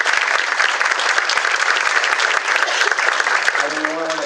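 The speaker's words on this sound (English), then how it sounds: "How about giving them a round of applause for that?" Loud, sustained applause from a sizable crowd at a city's State of the City address, dense clapping filling the room, with a voice starting to speak near the end.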